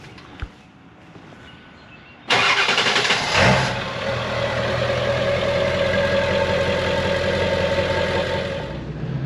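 A 7.3L diesel engine in a 2001 Ford Excursion cranks and catches with a loud roar, briefly revs, then settles into a steady, rumbling idle up close.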